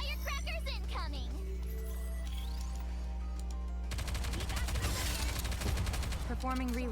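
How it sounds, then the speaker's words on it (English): Rapid bursts of firecracker-like explosions crackle in the video game Gooner Game, loud and dense for the last few seconds, over a steady hum with game voices earlier. "Firecrackers incoming!"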